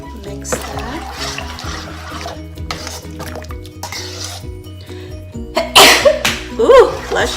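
A sharp sneeze bursts out near the end, loud and close, after quiet kitchen sounds of stirring and clinking utensils.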